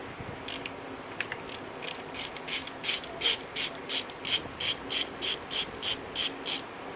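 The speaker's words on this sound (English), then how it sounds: "now I have to loosen up this Allen right here for the bottom boot to get the throttle body off" Allen bolt being loosened on the throttle body boot clamp of a 2019-2022 Yamaha YZ450F during a top-end rebuild, heard as a close, steady series of crisp ratcheting clicks in an even rhythm, with no talk.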